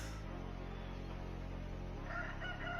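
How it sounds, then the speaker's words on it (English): A rooster crows over a steady low electronic hum, the call muffled and fairly faint in the background with no voices present. "The crows, the crows are calling."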